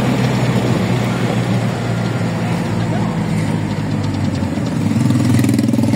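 Idling engine of a Philippine tricycle, a motorcycle with a sidecar, on a street between Malolos and Marilao: a steady, rough low chugging hum that runs throughout at moderate loudness, with a voice briefly audible.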